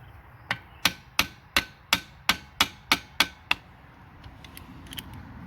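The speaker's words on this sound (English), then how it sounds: "take a 10 millimeter wrench, and you're going to loosen this lock bolt" A 10 mm wrench loosens the valve lock bolt on a Honda XR650R motorcycle, giving about ten sharp, evenly spaced metallic clicks close up, followed by quieter faint taps.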